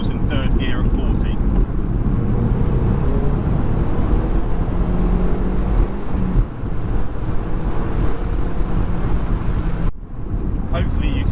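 A turbocharged Mazda MX-5 NC accelerating hard in third gear from 40, one long loud sustained engine pull under strong wind buffeting, ending in a brief lift near the end.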